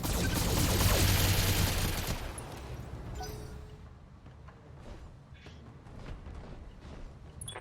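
Loud, dense mech weapon fire in the BattleTech video game rolls for about two seconds, then fades into quieter scattered shots and distant rumbling.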